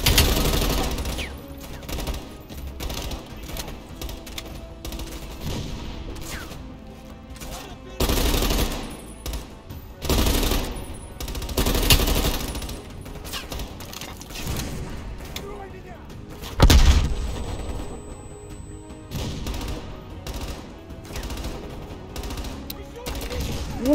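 Machine gun fire in Call of Duty Black Ops Cold War, coming as irregular bursts of shots with mechanical clatter between them, set against a busy game soundtrack.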